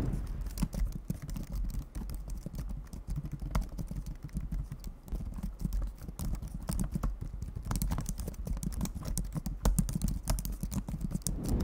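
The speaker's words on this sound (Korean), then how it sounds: "키감을 좀 간접적으로 느끼게 좀 도와드리고자 잠깐만 ASMR을 들려드리도록 할게요." Fast, continuous clacking of typing on the large-keyed full-size keyboard of a Samsung Galaxy Book3 laptop, close and crisp with irregular bursts of keystrokes and no talking.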